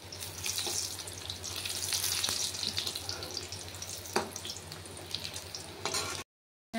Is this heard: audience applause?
no